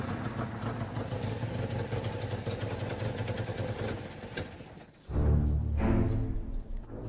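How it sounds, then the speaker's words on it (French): Engine of an Italian sport coupé running at a steady idle with a slight clatter, then a louder, deeper rev near the end, heard close and alone without talk. "Et si c'est le cas, le son du moteur."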